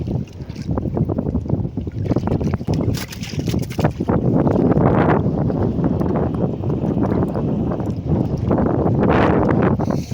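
Strong wind buffets the microphone outdoors by the water during a family meal, a loud continuous rumbling roar with gusty swells throughout.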